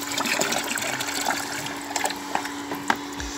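Water from a homemade well pump pours steadily into a large 25-litre bucket, a continuous close rushing splash with a few brief knocks and clunks, no voices.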